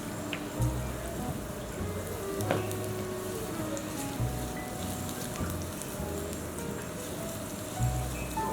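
Garlic sizzles in hot oil in a pan, a steady crackling hiss that carries on throughout with small pops and occasional low bumps, heard up close with no talking.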